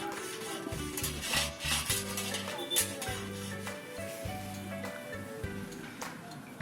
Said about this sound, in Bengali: এইভাবে অনবরত দুধটাকে আস্তে আস্তে নাড়িয়ে যেতে হবে